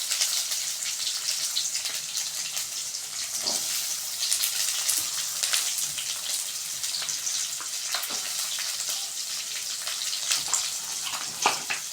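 Chopped onion frying in a pan for Tamil chicken varuval gives a steady, close crackling sizzle with scattered pops and brief stirring scrapes, no voices.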